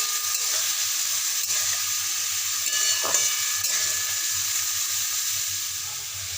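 Carrots and capsicum frying in a pan, giving a steady, close sizzle with bright hissing throughout, a few faint stirring scrapes and knocks mixed in, with no one speaking.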